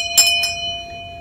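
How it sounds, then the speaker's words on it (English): Bell chime used as a notification sound effect rings twice in quick succession, bright and clear, with a sustained ringing tone that lingers afterward. "ring that notification bell"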